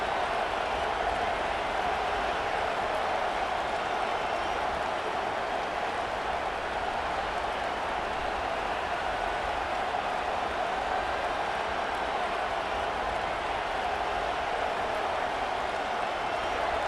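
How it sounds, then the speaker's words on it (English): A stadium crowd in the College Football 25 video game cheers as one continuous, dense roar, steady and loud throughout, without distinct individual voices. "This crowd, full throat, splitting the eardrums and letting them know it's going to be a long day"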